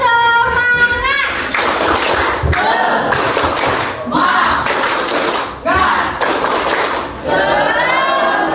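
Children perform the rhythmic Indonesian 'tepuk semangat' spirit clap in a classroom, a loud run of patterned claps and thumps with voices chanting along throughout.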